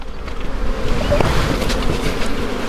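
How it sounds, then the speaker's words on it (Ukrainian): Honeybees hum steadily around an opened beehive, a close, dense buzzing with faint rustling and handling noises mixed in. "А бачимо, бджолки зверху є, але це не показник, що потрібно розширювати бджолину сім'ю."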